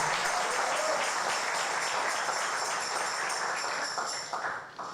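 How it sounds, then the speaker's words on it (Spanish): A church congregation applauds at a Spanish-language service, a steady wash of many hands clapping at full strength before thinning out near the end. "Vamos a darle ofrenda de aplauso a Él."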